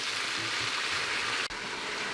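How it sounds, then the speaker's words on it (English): Onions for Brunswick stew sizzling in a pot as they cook down, a steady, close crackling hiss with a brief break midway. "Right now I've got all these onions, and I'm just going to let them cook down for a while."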